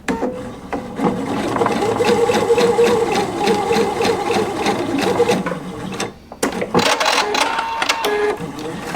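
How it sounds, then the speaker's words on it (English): A sewing machine runs steadily, making basting stitches while sewing a bound buttonhole, a fast even mechanical chatter that continues for about six seconds, stops briefly, then resumes close by with no talking. "I'm going to make the basting stitches"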